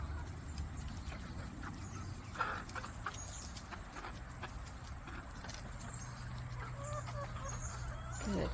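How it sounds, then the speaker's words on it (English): A flock of chickens, with young birds being introduced to older hens, clucks softly and irregularly outdoors, faint and distant against low background noise. "Good grief, that's a lot of chickens."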